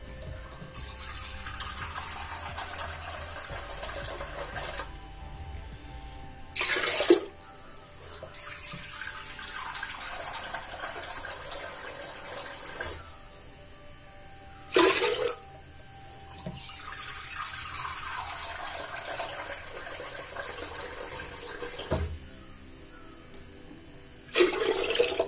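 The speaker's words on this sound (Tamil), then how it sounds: "இப்ப தண்ணி ஊத்திக்கலாம்." Water is poured from a vessel into a pot for making Pongal, coming in several long steady streams with short louder splashes and clanks between pours.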